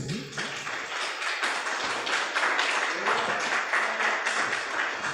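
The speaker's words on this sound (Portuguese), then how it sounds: "Você pode dar um aplauso ao Senhor Jesus?" Congregation at a Christian church service applauding, a dense, steady wash of many hands clapping together that continues at an even loudness throughout.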